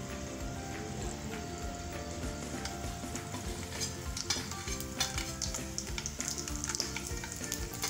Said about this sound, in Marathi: मोहरी आणि जिरे आपल्याला चांगले तळतळू द्यायचे